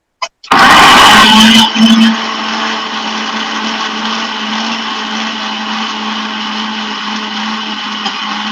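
A blender whirs loudly at full speed for about a second and a half, then settles into a steady, lower motor hum that continues to the end.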